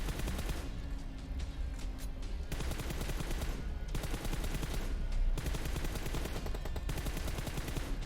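Rapid automatic gunfire from the mobile game PUBG Mobile while aiming through a scope, loud sustained bursts with short pauses between them, close and dense throughout with no talk.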